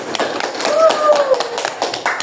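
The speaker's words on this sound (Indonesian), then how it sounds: "Beri tepuk tangannya, teman-teman." A short burst of applause welcomes two guests at a student podcast gathering, with quick clapping mixed under nearby voices and chatter.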